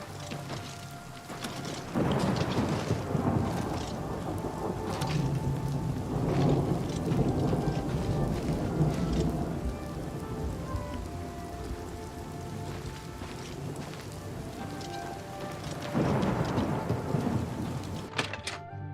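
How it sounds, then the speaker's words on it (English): Steady rain pours throughout with rolling thunder swelling in waves from a game thunderstorm in Oblivion Remastered, the downpour loud and continuous with no voices. "you're just chilling while it's raining outside"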